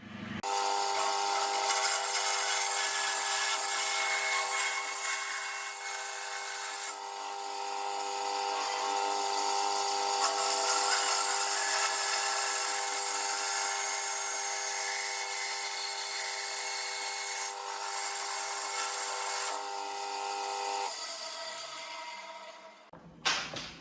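A saw cutting through the wooden headstock joint of an Antoria Snow Eagle bass guitar neck, a loud continuous buzzing rasp lasting about twenty seconds before stopping abruptly.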